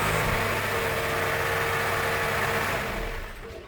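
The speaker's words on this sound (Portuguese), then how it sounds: "Ele dá partida no motor." A 2022 Jeep Commander Limited SUV engine runs after a remote start, a steady low idle rumble heard close up for a few seconds before fading at the end, with no talking.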